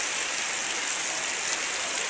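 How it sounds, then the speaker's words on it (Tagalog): Heavy typhoon rain pours down in Zamboanga, Philippines, a dense, even hiss of rainfall that continues without letup, with no voices. "Sobrang malakas ang ulan at hangin."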